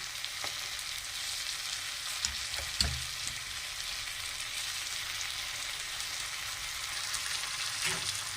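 Ginger-cumin paste fries in oil with cabbage for a vegetarian winter dish, a soft, steady sizzle broken by occasional light scrapes and knocks of stirring.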